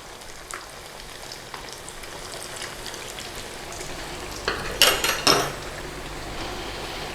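Onion bhajis are being refried in hot oil to crisp them up, giving a soft, steady crackling sizzle. Louder bursts of spitting and bubbling come near the end as they are added or turned.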